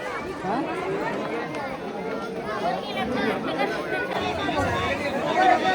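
Large crowd at Jotiba temple produces a continuous hubbub of overlapping voices and shuffling footsteps, close around and swelling slightly toward the end.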